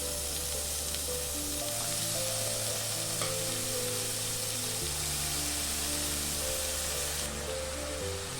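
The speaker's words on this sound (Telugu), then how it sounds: "ఇప్పుడు మనం ఇందులోకి తరిగి ఉంచుకున్న పాలకూరని వేయాలి." Chopped spinach fries in a pan with onion for a palakura ullikaram dish, giving a loud, continuous sizzle with crackle and occasional stirring scrapes. There is no talking.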